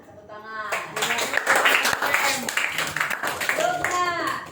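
Schoolchildren in a classroom clap together for a classmate, a brief burst of mixed clapping that rises after a short spoken lead-in and carries under overlapping voices.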